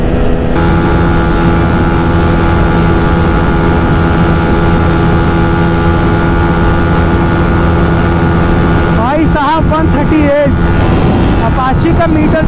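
Yamaha MT-15 BS4 and TVS Apache RTR 200 4V BS6 motorcycles in a long race, a steady loud engine drone buried in heavy wind roar from a moving rider's microphone, with brief disturbances near the end.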